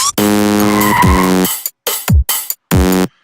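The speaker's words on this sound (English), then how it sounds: "if I just play this MIDI with the initialized preset of just a sawtooth wave, it sounds like this." Serum soft synth playing MIDI with its initialized plain sawtooth-wave preset: a buzzy, harmonically rich sustained note, then a few short clipped notes with quick downward pitch slides, loud and alone.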